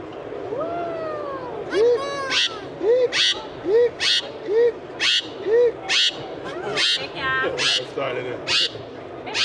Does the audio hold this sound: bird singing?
yes